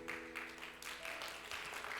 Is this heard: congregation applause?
yes